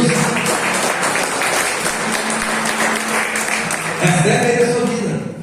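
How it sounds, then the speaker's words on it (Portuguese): A church congregation claps together in a sustained, dense burst of applause lasting several seconds, with voices and a bit of music mixed in as it begins to taper off. "Pode dar uma salva de palmas para Jesus?"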